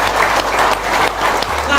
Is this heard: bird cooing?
no